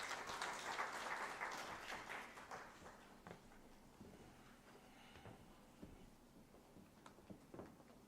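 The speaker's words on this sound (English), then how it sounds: "Let us raise her with a round of applause." Audience clapping at a transformation conference opening, fairly quiet and strongest at first, then thinning into scattered claps and taps as it dies away.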